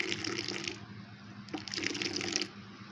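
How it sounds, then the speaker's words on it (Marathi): Hot milk poured from above into a cup holding a spoonful of cappuccino powder, a steady liquid splash and gush in two pours with a brief pause between, close and fairly loud. "यामध्ये असं गरम गरम दूध ओतायचं आहे, असं वरतून ओतायचं मस्त असं।"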